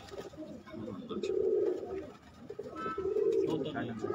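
Pigeons coo in two soft, repeated bursts, close and low-pitched, over a faint outdoor background.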